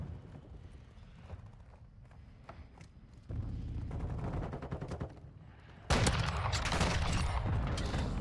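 Video game gunfire from an SA-B 50 rifle and other weapons comes in rapid bursts and repeated shots, getting louder in stages with steady clatter toward the end, with no talking.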